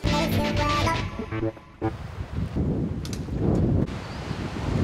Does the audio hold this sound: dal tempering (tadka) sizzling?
no